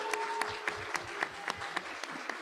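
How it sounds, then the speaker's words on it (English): Applause at a school board of education meeting honoring a fourth grade teacher, a thin, steady patter of clapping from a modest audience, fairly soft and continuous without any voices over it. "if we could also give a round of applause for Miss Asquith, one of our 4th grade teach"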